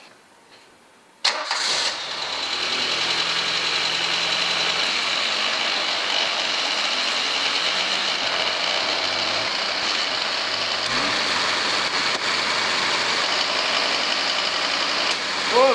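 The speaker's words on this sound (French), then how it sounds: "je vais mettre mon moteur en route pour voir si ça remonte en pression" A Citroën CX engine fires up abruptly after a short quiet moment and settles into a loud, steady run close to the car, with no talk over it.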